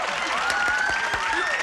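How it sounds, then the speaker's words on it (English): Studio audience applause on a 1980s television game show, a dense burst of clapping heard clearly for its full brief length. "She's applauding her answer."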